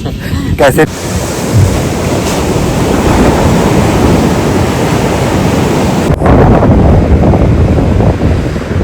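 Sea waves wash steadily onto the seashore at Pulmoddai, Sri Lanka, with strong wind buffeting the microphone; a continuous loud surf roar runs throughout, with a brief sharp knock near the start and a short pause around six seconds.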